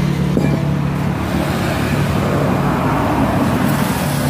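Diesel engine of a used Sakai 1-ton baby roller idling steadily nearby, a loud continuous low throb holding an even pitch throughout with no voices.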